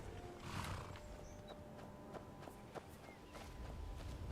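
In the video game Skyrim, a horse whinnies briefly near the start, followed by scattered hoof steps and clip-clops over a steady outdoor ambience.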